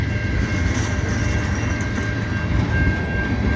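A long CN freight train hauling many tank cars rolls westbound past a snowy street crossing, its steady rumble and rattle loud and continuous throughout, with a faint sustained horn tone riding above it.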